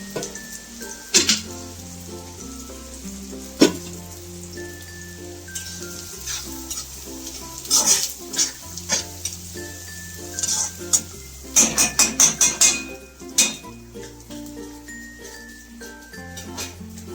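Onion frying in oil in a pan for a Gathi shev chutney, a steady sizzle running throughout with recurring metallic clinks and scrapes of stirring, while sustained tonal music plays underneath.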